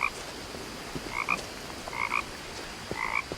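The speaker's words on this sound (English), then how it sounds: "Who kept some frogs?" Frogs croak in the video game What Remains of Edith Finch, with three short double-pulsed croaks spaced about a second apart over a faint ambient background, with no talk.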